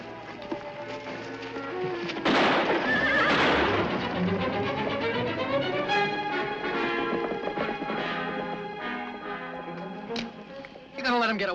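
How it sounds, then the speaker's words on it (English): A horse whinnies amid overlapping voices and music in a 1953 Western film, with loud bursts of activity early on and a busy, dramatic background throughout. "Maria, get to the horses"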